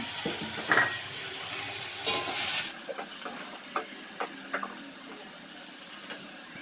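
Prawns frying in oil with turmeric added, a steady bright sizzle close by that drops and settles partway through, with occasional clicks and light scrapes over the hiss.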